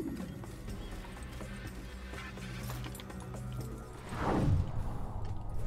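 Horse hooves clip-clop in Assassin's Creed on Xbox 360 over a steady game backdrop, with a louder burst of movement near the end.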